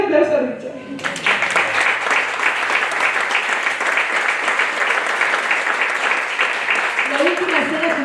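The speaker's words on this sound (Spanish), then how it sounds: "Un aplauso a Richard." An audience at a film presentation bursts into loud, sustained applause after a brief spoken lead-in, the dense clapping carrying on evenly for several seconds before a voice returns near the end.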